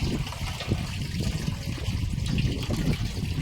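Hot water runs steadily from a tap with a full, constant splashing rush that stays close and even throughout.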